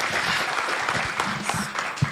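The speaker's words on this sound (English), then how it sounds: "Let's clap for her." Steady applause from a crowd, a dense wash of clapping that holds at an even level throughout with no voices standing out.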